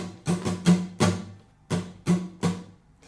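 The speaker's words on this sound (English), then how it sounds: "The strumming pattern, it is quite fast-paced, but we will get the hang of it. Let's just slow it down first." Acoustic guitar strummed slowly in a song's strumming pattern, eight distinct full-chord strums with a steady, uneven down-up rhythm, close and clear with no voice.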